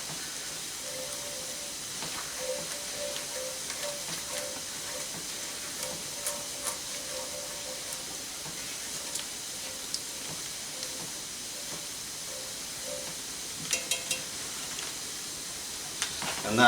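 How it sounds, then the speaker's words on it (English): Beer cooking down in a pan for Scotch collops with mushrooms and gravy, a steady soft hiss and simmer that runs throughout with faint occasional ticks and a low tone, no clear talk. "So we'll let that beer cook down just a sec."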